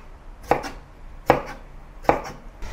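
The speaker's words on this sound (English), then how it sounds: "Then cut it into thin slices or small wedges as you wish." A knife slices through a tomato on a cutting board in three crisp, evenly spaced chops, each a short sharp knock with a brief wet tail, close and clear against a quiet kitchen.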